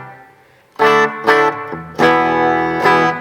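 Electric guitar through a Strymon Flint reverb pedal set for a big ambient wash: a few bright chiming notes and chords ring out with long, lush reverb tails, loud and alone.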